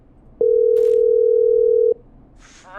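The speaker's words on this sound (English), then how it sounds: "we're calling back one of our earlier callers, Virginia Sullivan." A telephone dial tone sounds during a call in the Killer Frequency video game, a single steady pure beep lasting about a second and a half, followed by faint voice-like sound.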